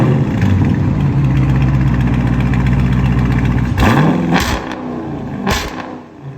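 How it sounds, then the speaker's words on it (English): A 2021 Dodge Charger Daytona with a 6.4-liter HEMI V8 and straight-pipe exhaust ending in 5-inch tips idles with a deep, loud, steady rumble, then gets blipped in two or three sharp throttle revs near the end. "This is what it sounds like straight pipe with 5-inch tips."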